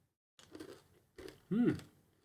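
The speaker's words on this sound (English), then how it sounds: "there's a crunch on the shell on the outside, but very soft on the inside, which sort of collapses quite quickly" Close bites and chewing into an M&Ms fudge brownie with a crunchy shell and soft centre, two short bursts of crunching with a louder, sharper crunch near the end.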